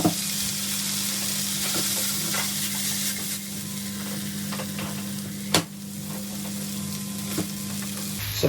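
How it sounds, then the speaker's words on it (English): Côte Argent steaks braising in BBQ sauce sizzle loudly in a hot pan, a steady close hiss broken by stirring scrapes and one sharp pop, with no talking. "So my sizzling is calmed down just ever so slightly, which means I know the temperature's gone down."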